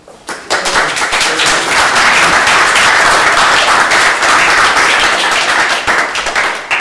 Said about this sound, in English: Give you a small round of applause